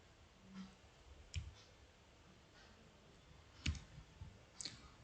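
A computer mouse clicking a submit button gives a few sharp, isolated clicks spaced about a second apart against quiet background.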